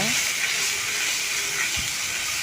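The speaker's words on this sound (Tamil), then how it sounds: "இப்போ வந்து நம்ம பூண்டு இஞ்சி பூண்டு போட்டுக்கலாங்க கொஞ்சம் அந்த தழையை வந்து நம்ம அலசி அதையும் சேர்த்து நல்லா வதக்கிக்கலாங்க" Garlic, ginger and thiruvatchi leaves sautéing in a pan, a steady, bright, hissing sizzle held close and unbroken throughout, with no voices.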